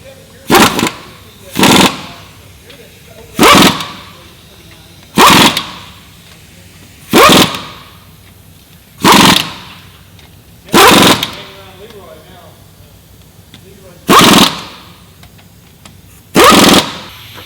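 Impact wrench hammering lug nuts on a 2017-2019 Ford F250 Super Duty fitted with 37-inch tires, in about ten short, sharp bursts spaced roughly evenly, loud and close, with faint voices in the gaps.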